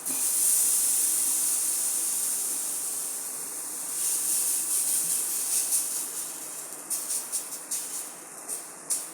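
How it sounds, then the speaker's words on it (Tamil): Uthappam batter hits a hot oiled dosa griddle and sets off a steady, bright sizzling hiss that settles and then crackles in short pops toward the end, with no one talking. "இப்போ வந்துட்டு மாவு ஊற்றிடலாம்."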